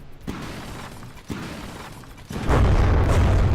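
A tank turret is destroyed in the From The Depths game: a couple of sharp shattering impacts, then a loud sustained explosive boom rumbling to the end.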